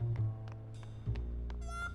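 A cat meows a few times in the Grim Fandango video game, close and clear, with short separate calls over a steady low background hum.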